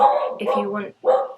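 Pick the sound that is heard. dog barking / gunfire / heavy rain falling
dog barking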